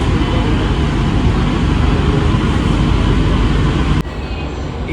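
A Sealdah–Ranaghat AC local train running, a loud steady rumble and rush of wheels and carriage that suddenly drops in level near the end.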